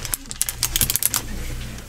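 Rapid typing on a computer keyboard, a quick run of close, sharp key clicks that trails off into a quieter stretch.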